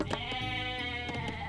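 Sheep bleating in the strategy video game Age of Mythology Retold, a loud, quavering harmonic bleat that fills the short moment, with a second bleat pulse near the end and no talk.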